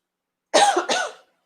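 One short cough burst followed by a second rasping throat-clearing cough, close and loud, in about a second of otherwise silence.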